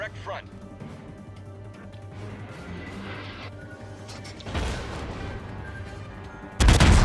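Königsberg cruiser guns fire rapidly in World of Warships, with booming salvos bursting out over continuous talk and one loud blast near the end.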